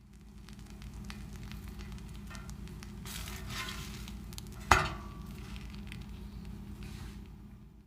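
Eggs fry on a Lodge cast iron griddle with a steady, close sizzle that swells slightly midway, then a single sharp metallic clink from a utensil, and no talk.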